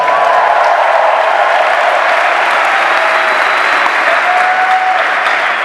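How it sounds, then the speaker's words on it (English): A large seminar audience at a Las Vegas motivational event applauds loudly and steadily, dense clapping sustained throughout with faint crowd murmur beneath. "Give yourselves a round of applause."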